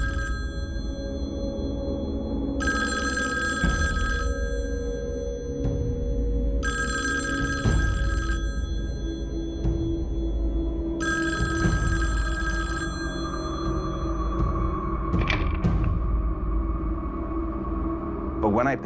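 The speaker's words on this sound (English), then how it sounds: "the phone rang" An old telephone ringing at night in a quiet bedroom, three spaced electronic bell rings with pauses between, followed by a sweeping tone and low rumbling background.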